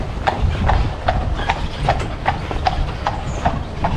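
A horse pulling a tourist carriage through Dublin streets gives a steady, evenly spaced clip-clop of hooves on pavement, close and clear over low street rumble.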